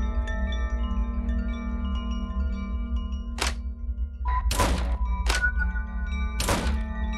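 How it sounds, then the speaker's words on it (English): Something shuts in the horror video game Ib with a series of heavy thunks, four or five dull knocks in the second half over a low, steady ambient drone. "I don't like the sound of that just shutting."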